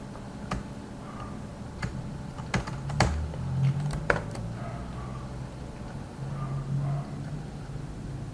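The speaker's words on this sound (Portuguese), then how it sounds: "Deixa eu digitar aqui de novo" Someone types on a computer keyboard while coding a C++ Allegro 5 game, with close, irregular clicks and keystroke bursts scattered across a quiet background.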